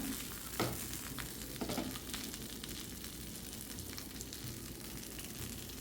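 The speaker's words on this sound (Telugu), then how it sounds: "ఆ క్యాప్సికమ్ అట్లా కొద్దిగా నేతిలో వేపుతున్నాను" Capsicum frying in a little ghee, a steady close sizzle with crackling pops throughout, loudest early on.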